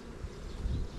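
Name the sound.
honeybees buzzing at beehives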